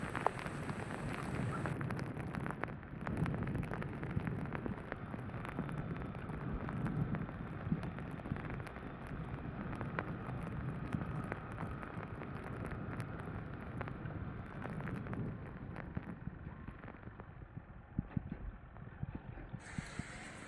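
Heavy rain falls steadily outdoors during a motorcycle ride, a dense continuous wash of hiss and patter with wind buffeting mixed in, loud and unbroken for the whole stretch.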